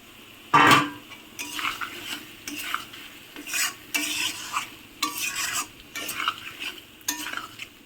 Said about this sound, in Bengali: এই যে ভেজে রাখা আলুগুলো দিয়ে দিলাম